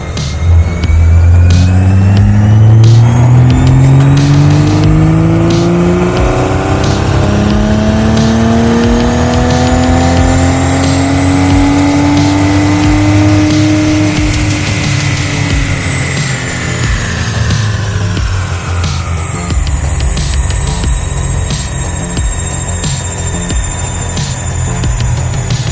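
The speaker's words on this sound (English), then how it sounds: "we're just warming the car up, and then we're going to do the full run" A Toyota Supra A90 roars on a dyno as its engine climbs steadily through the gears during a full power run, loud and continuous, with the pitch rising, dropping at each shift and rising again before easing off.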